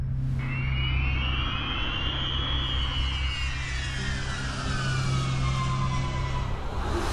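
A bomber aircraft roars past, its engine drone carrying a loud wailing whine that rises, holds, then slowly falls over several seconds.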